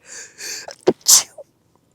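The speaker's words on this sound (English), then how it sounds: "Oh, I'm gonna sneeze." One close, sharp human sneeze bursts out after a couple of breathy inhales, loud and alone with no other sound behind it.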